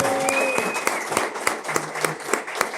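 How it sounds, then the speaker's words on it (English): A short round of applause from a live audience: brisk, fairly close clapping over about three seconds, with a brief voice at the start. "Everybody give Peggy a round of applause,"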